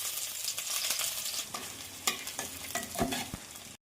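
Sliced onion with bay leaf sizzles in hot oil in a wok, with a steady frying hiss broken by scraping stirs and a few sharp clinks of the spatula near the end, with no talking.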